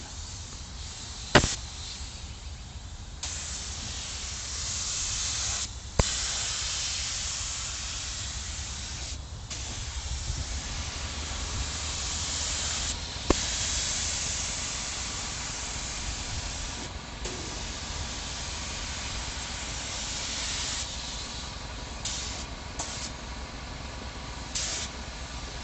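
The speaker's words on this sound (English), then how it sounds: "we're gonna spray some clear." A spray gun lays clear coat over a freshly painted black door panel on a Corvette C4, giving a steady, close, continuous hiss with brief pauses and sharp trigger clicks between passes.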